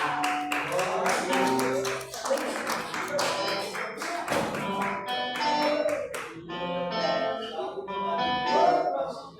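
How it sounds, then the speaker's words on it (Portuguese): Church congregation clapping hands in rhythm during worship, a steady run of claps mixed with singing and voices throughout. "Mas palmas e dança de Deus, igreja."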